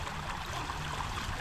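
A river flows steadily, its continuous rushing and gurgling water close by and fairly soft, with no voices over it.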